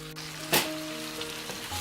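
Chicken curry sizzles in a pan while it is stirred, a close continuous frying hiss broken by a sharp spatula scrape and a few softer knocks, with no talking.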